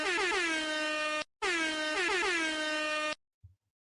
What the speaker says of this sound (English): Get the air horn louder.